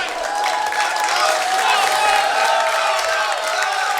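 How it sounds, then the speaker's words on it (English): A packed, standing-room crowd at the Brooklyn Bowl cheers and applauds during a men's table tennis championship final, a dense, continuous wash of clapping and roaring voices that holds steady throughout. "The fans are going wild."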